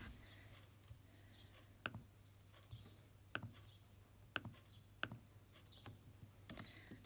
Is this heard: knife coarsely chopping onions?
no